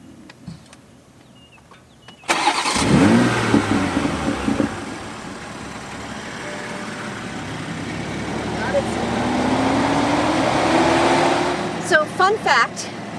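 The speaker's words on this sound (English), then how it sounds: "So I'm going to show you the engine, the V6 engine" A 2020 Toyota Supra's V6 engine cranks and starts with a sudden loud burst, then settles into a steady close idle and swells slightly, with a few clicks near the end.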